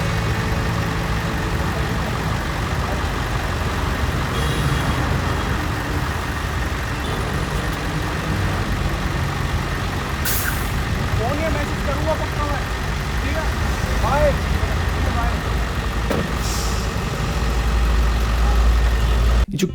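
A truck engine idles steadily and loudly throughout, somewhere in Rajasthan near a crane, with indistinct voices murmuring in the background.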